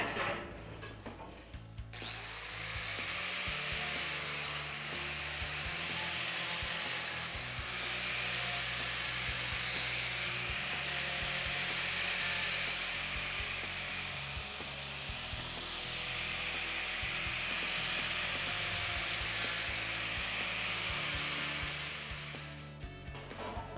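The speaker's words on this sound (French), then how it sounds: "Le départ, c'est des pièces qui sont coupées, donc il faut meuler les bouts." Ends of cut metal pieces are ground smooth in a metalworking shop, a steady, loud grinding rasp that runs almost without a break, alone with no talk.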